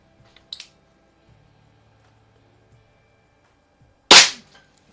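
An RWS Diana LP8 magnum air rifle fires a single sharp, loud crack as a Meisterkugeln pellet strikes plywood, preceded by faint clicks and handling noises in a quiet setting.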